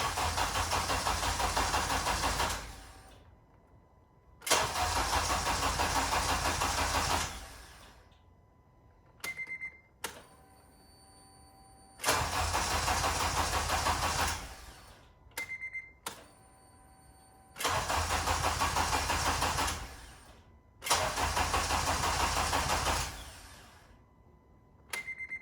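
A Honda Civic Si, 8th generation, cranks repeatedly after its fuel pump is primed: several long, loud bursts of starter churning separated by pauses with pump whine and chimes, never catching, no talking.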